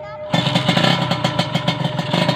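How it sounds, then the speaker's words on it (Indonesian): A worn, battered Kawasaki Ninja R motorcycle engine kicks in and runs close by with a rapid, pulsing two-stroke beat, loud and rhythmic with a slightly rattly edge. "Ya kira-kira begini ya suara motornya"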